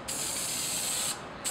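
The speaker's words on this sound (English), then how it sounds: "Nice and even spray, like spray paint." Spray adhesive hisses from an aerosol can onto foam while a large costume is patterned. It comes as one long, loud, even burst, a short pause, then a quick second spurt.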